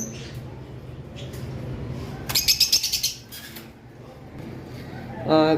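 Caged lovebirds of various colour mutations, including green opaline, at a bird seller's, giving a quick burst of rapid high chirps in the middle and another short call at the end over a low background murmur.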